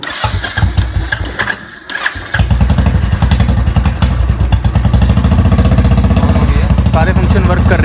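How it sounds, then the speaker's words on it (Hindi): A Royal Enfield Bullet motorcycle is started without a key: after a few cranking bursts and a pause, the single-cylinder engine catches and settles into a loud, steady thumping idle close by. "अभी मैं बाइक को आपको स्टार्ट करके दिखाता हूँ ऊपर से."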